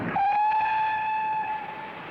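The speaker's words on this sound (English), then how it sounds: "The last of the special boat trains from London arrives at the dock" A special boat train from London pulls into a dock at a Cunard liner terminal in 1963, sounding a single long steady whistle over a low rumble of the train.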